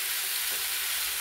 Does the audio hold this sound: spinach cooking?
yes